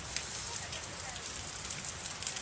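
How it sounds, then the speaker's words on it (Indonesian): Steady rain pattering on a surface, a dense, even hiss throughout with no pauses, heard close and alone without talk. "Hujan."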